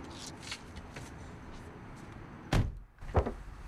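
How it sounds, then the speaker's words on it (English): A door is shut with a muffled thump, followed a moment later by a second dull knock. Quiet rustling and faint background noise come before both sounds. "I just shut the door."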